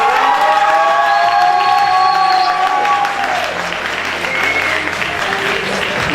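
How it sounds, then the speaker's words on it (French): An audience at the Miss Aisne 2018 pageant applauds the candidates with loud, sustained clapping and some cheering, while a few high whistles cut through early on. "j'aimerais vraiment qu'on applaudisse bien fort nos 11 candidates"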